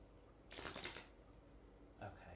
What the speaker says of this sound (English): I shuffle until the universe tells me not to.